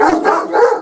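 A dog barks twice in quick succession, loud and close.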